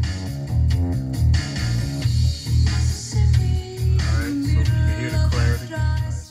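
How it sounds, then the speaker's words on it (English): Car radio through an old mast antenna, music with a steady thumping beat and melody playing from the dash speakers, moderately loud with no one talking. "this is the sound of the radio before I switch the antenna"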